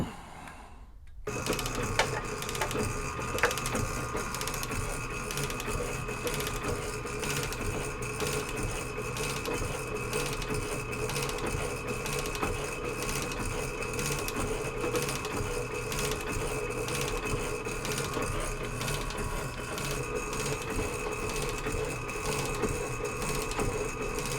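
Metal machining pass cutting a face on a holder for the diamond nib of a drill grinder under repair, a steady continuous whirring and grinding tone with a fine rhythmic ticking that runs unbroken after a brief silent start.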